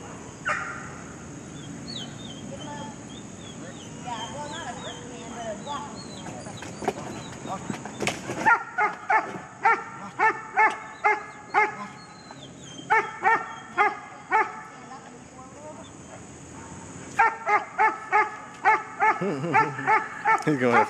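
Dog barking in quick repeated yips and woofs while chasing a toy during a training session, loud and close, with a person talking quietly at the start.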